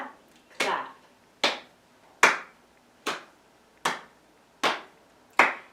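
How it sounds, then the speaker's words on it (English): Hands slap and clap in an evenly paced family yoga routine, seven crisp, close percussive hits spaced under a second apart, each decaying quickly into quiet. "Slap, clap."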